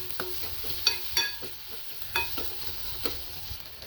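Potatoes fry in a pan while a spoon stirs them, soft steady sizzling with several light scraping taps, close and moderately quiet.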